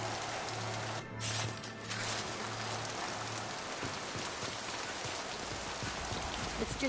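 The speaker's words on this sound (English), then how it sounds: "Hey, rain." Heavy rain falling in the sci-fi game Mass Effect 2, a dense close hiss of drops on surfaces with a faint repeating low hum beneath, briefly dipping near the start.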